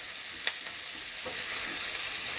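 Ripe red capsicum frying in a pan, a steady close sizzle broken by a couple of sharp clicks from stirring, with no talking.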